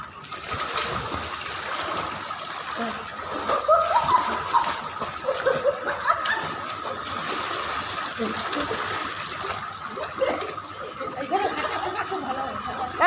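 Someone diving and splashing into water, with continuous sloshing and splattering over a steady watery background while voices talk and cheer nearby.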